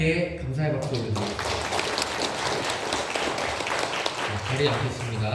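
A church congregation applauding in thanks, a steady wash of clapping filling the middle of the clip, framed by a speaking voice at the start and end.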